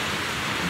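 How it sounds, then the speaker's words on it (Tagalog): Heavy rain pours down in a loud, even wash of hiss that holds steady without a break and has no voices over it. "Ang lakas ng ulan."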